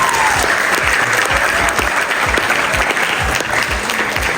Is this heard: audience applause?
yes